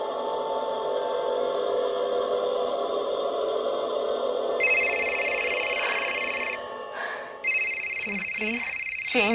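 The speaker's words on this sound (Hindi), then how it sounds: "Change your stupid ringtone." A mobile phone ringtone plays loud and near in repeated electronic bursts with a brief gap, over a tense dramatic music bed and a short vocal sound near the end.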